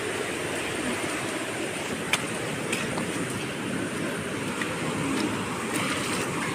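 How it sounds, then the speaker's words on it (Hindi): Rainwater rushes steadily along an open drain after several days of rain, a continuous broadband hiss and gush of flowing water with a few faint ticks and splashes over it. "अब इसके बावजूद आप देखें कि ये जो नाला चल रहा है"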